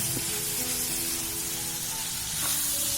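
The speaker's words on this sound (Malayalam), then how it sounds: "എല്ലാതും കൂടി നല്ലതുപോലെ ഒന്ന് ഇളക്കി ചേർക്കുക" Ginger garlic paste sizzles steadily in hot oil while being stirred in a pan for a spicy South Indian Chettinad chicken curry, with a constant frying hiss and a few soft scrapes, close and alone without talk.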